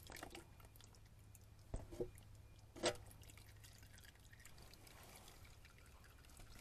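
Transmission fluid drains from the pan of a Ford Focus with a 4F27E transmission into a container, faint and wet, with scattered drips and a few splashy knocks over a low background rumble.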